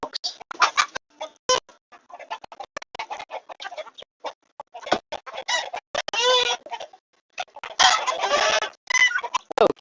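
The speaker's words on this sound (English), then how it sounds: "back into the chicken barn. All of the wonderful chickens." Chickens in a chicken barn cluck and squawk in close, irregular bursts with short pauses between them, and a louder rooster-like call rises near the end.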